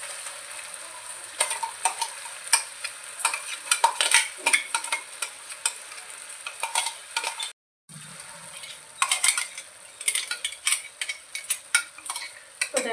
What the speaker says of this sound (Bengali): এবার আমি দিয়ে দেবো বেটে রাখা পালং শাক